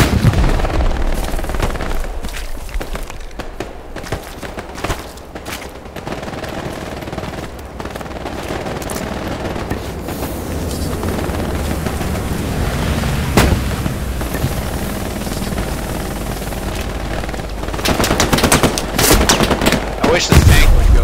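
Gunfire in Hell Let Loose on Hill 400, loud bursts and fusillades of rifle and machine gun shots from close by, continuing throughout with explosions and someone speaking intermittently over the battle.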